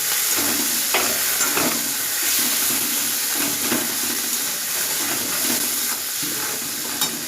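Chickpea curry frying in a pan as boiled potato pieces are stirred in, with a steady sizzle under repeated scraping and stirring strokes, close and fairly loud, no voices.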